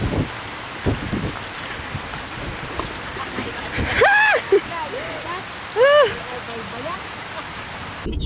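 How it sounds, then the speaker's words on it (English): Rain falls steadily on a residential area where people hurry laundry indoors, a soft continuous patter under scattered voices and a few sharp exclamations. "Everyone's putting their laundry inside because it's raining."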